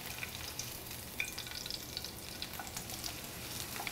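Garlic sizzling in a hot pan without oil, a faint, steady crackling fry with small scattered pops and a few stirring scrapes, close by and with no talking.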